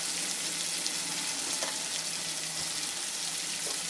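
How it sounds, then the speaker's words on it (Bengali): Turmeric, red chilli powder and salt frying in hot oil for a vegetarian raw papaya kofta curry, a soft continuous close sizzle with faint stirring. "এখন সব মশলাগুলোকে একটু 2 মিনিট মতো আমি কষিয়ে নিচ্ছি তেলের মধ্যে।"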